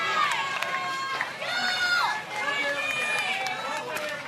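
At a professional pickleball match, players on the sideline cheer and shout between points, with bursts of excited voices and a commentator talking over them.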